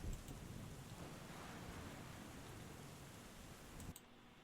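Steady rain hiss with low rumbling thunder throughout, loud and continuous, with no talking over it; a brief sharper burst near the end.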